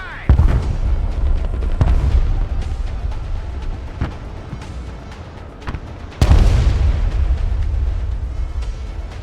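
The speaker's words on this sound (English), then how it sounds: "Artillery at your command, sir." Artillery fire and explosions in the war video game Broken Arrow: loud booming blasts and cracking impacts over a constant rumbling battlefield, with a heavy burst near the end.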